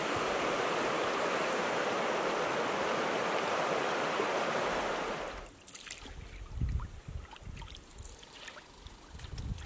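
Flowing water at a portage on the Nip River in Algonquin Park, a loud, steady rushing for about five seconds, then it cuts away to quieter outdoor ambience with scattered knocks and rustles.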